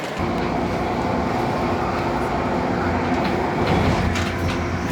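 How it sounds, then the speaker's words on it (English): Inside a moving train in Hong Kong, leaving the airport: a loud, steady low rumble with faint rhythmic clacking of wheels on track, continuous and close. "Just chilling on the train"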